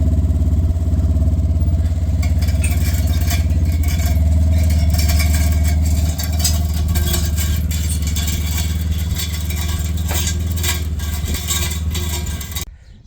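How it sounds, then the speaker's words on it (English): A utility buggy's engine runs steadily at close range for the whole stretch, a low droning rumble with light rattling on top, while it pulls fence wire off a spool, then cuts out abruptly at the very end. "I'm going to pull it with the buggy and let it unwind"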